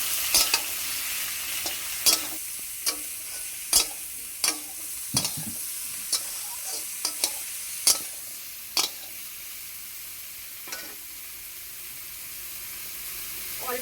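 Spices with turmeric and salt being stirred in a frying pan, a spoon scraping in sharp, irregular strokes over a soft, steady sizzle, close and fairly loud with no talking.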